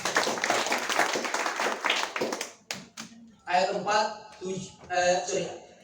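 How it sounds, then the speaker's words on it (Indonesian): A church congregation claps during a family gathering worship service, a dense patter of hands for about two and a half seconds, then a few scattered claps as a voice begins speaking over it. "Tepuk tangan buat Tuhan Yesus."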